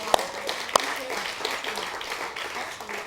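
A few scattered claps, with a couple of sharp ones standing out, mixed with murmuring voices in a room during a Sunday service talk.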